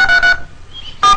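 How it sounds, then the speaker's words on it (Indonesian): Telephone tones while a call is being placed, with a few loud electronic tone bursts separated by brief gaps and a faint background hum. "Udah aku telepon aja."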